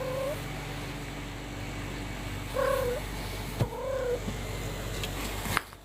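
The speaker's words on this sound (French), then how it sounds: "Oh là. Le chat?" A cat gives a few drawn-out meows, spaced apart over a steady indoor background hum, with a couple of sharp knocks near the end.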